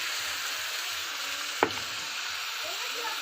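Spices such as cumin, ginger, chilli and tomato frying in a pan for a broccoli and potato curry, a steady hissing sizzle with one sharp knock of a utensil midway, no talking.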